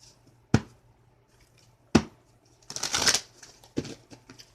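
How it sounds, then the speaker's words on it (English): A deck of cards is shuffled and cut in a quiet room: a few sharp, separate riffling snaps spaced about a second apart, then a longer rustling flutter of cards, then a final slap. "we're gonna do one more shuffle"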